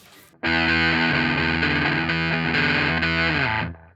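Harsh, buzzing guitar distortion from a TC Electronic Honey Pot fuzz pedal rings out loud and sustained for about three seconds, then fades out, with no voices.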